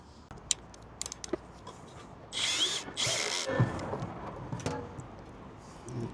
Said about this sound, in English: You can move back up top, tighten those M8s down.